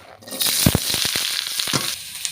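Potatoes hitting hot oil in a pan for posto aloo give a loud, steady sizzle with a cluster of sharp crackles and pops near the start, close and alone.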